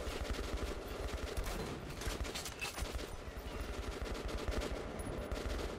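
Sustained gunfire from the shooter game Metro: Last Light Redux, a dense stream of rapid shots over rumbling in-game noise, steady and fairly loud throughout with no talking.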